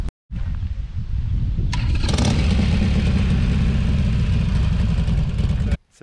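Harley-Davidson Sportster XR 1200 motorcycle engine running loud and close, a continuous throaty rumble that kicks in abruptly, holds steady, then cuts off at the end.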